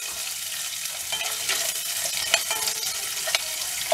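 Thinly sliced onions sizzle and fry in a pan, a bright continuous crackle with occasional stirring scrapes and small pops, close and steady.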